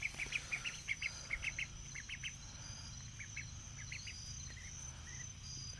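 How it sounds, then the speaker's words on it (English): A pair of ducks in a coop and run built from scrap materials give a series of nasal calls, clustered at first and then sparser, over a steady background of insect or cricket buzz. "I got both my ducks in here now"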